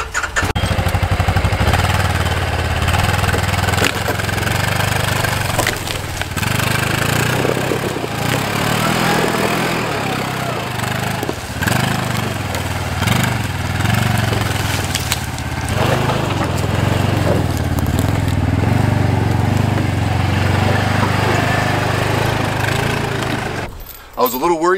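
An old Kubota tractor in 4-wheel drive with the differential locked strains over a tree stump in soupy mud, its engine droning loud and steady with rising and falling labour throughout.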